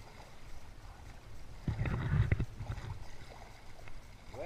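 A stand-up paddleboard paddled by a young child on windy open water, with a soft splashing paddle stroke in the middle over steady wind and water rush.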